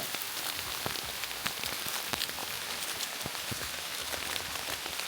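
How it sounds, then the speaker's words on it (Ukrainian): Steady rain pattering on a surface, dense and continuous with scattered sharper drops, nearby and fairly loud throughout. "ти сказала і дощ посилився"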